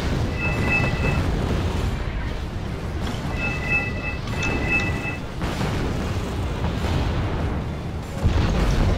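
Artillery fire and explosions in a war video game rumble heavily and continuously, with deep booms layered over a constant roar and thin alarm-like tones sounding intermittently above it.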